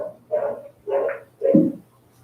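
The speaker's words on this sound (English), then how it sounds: "Sounds like your dogs are mine" Three muffled barks from a dog come through a phone line during a special city council meeting, each bark spaced about half a second apart and mid-loud against a low hum.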